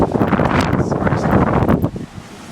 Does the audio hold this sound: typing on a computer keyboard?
no